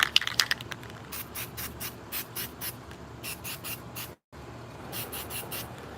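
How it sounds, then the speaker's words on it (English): Spray paint hisses onto rods in short repeated bursts, a quick flurry first and then steadier pulses with a brief pause midway, while an air conditioner hums steadily underneath. "we're gonna turn it around and we're gonna spray going upwards"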